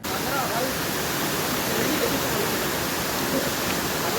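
A waterfall roars as a dense, steady broadband rush, loud and unbroken throughout, with no distinct voices standing out above the water.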